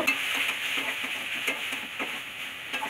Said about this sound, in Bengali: বেশ করে আবার কষিয়ে নেব মশলা সহযোগে।